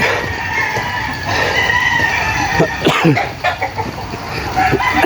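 Chickens and roosters clucking and crowing at a muddy gamecock farm, several birds calling near and far over a steady outdoor background, with no talking.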